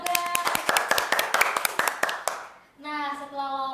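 A small group claps hands briefly in a casual indoor setting, a quick run of close, sharp claps that stops abruptly, followed by a voice talking.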